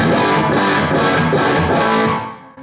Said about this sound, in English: you'll notice that it still has a full-out distortion sound